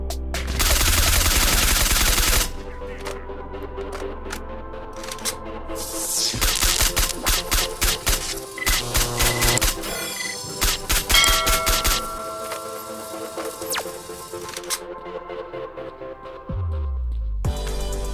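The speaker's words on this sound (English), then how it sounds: "Bullets often ricochet in reality, and even this was properly realized in Stalker's Shadow of Chernobyl." Gunfire and ricocheting bullets in the video game STALKER: Shadow of Chernobyl, heard as loud bursts of rapid shots with ringing metallic clangs and pings and short gaps between volleys.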